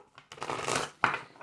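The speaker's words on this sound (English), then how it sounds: "One more shuffle." Tarot cards being shuffled up close in two quick riffling bursts, crisp papery flutters with a short pause between them.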